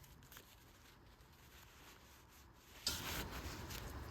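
Crumpled tinfoil rubs rust from the threads of a jet ski steering shaft. A faint, close scratching grows louder and steadier partway through.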